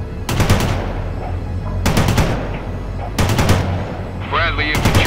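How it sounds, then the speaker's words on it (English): Bradley infantry lay down suppressing fire in the real-time strategy game World in Conflict: three loud bursts of rapid automatic gunfire, each about half a second, spaced over a steady rumbling battle ambience. "Bradley infantry moving as ordered. Laying down suppressing fire."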